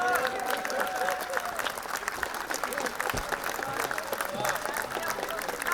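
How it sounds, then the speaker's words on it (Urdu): Sustained applause from a large audience giving a standing ovation at a mushaira poetry gathering, dense steady clapping throughout with faint crowd voices. "وہ تالیاں بجائیں، اسٹینڈنگ اوویشن دینا چاہتے ہیں گلزار صاحب کو"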